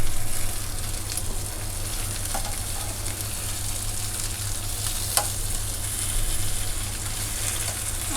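Tolma fish fillets fry in a pan, Konkani Malvani style, with a constant dense sizzle and an occasional soft click of a utensil, close and steady throughout with nobody speaking.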